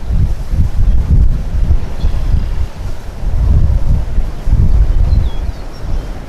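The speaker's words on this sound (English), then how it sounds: "very, very windy" Strong wind buffets the microphone on a lake shore during a fishing trip, heavy low roaring gusts that swell and ease in waves, loud and continuous with no voices.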